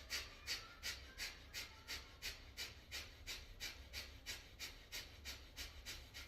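Rapid, powerful yoga breathing comes in forceful, evenly spaced breaths, roughly three per second, close and clear with no other sound.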